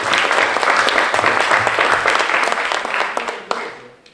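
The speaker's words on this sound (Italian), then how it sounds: "un applauso lo stesso anche" An awards-ceremony audience for DVD Awards 2015 claps loudly and steadily, the applause thinning and fading toward the end with a few last scattered claps.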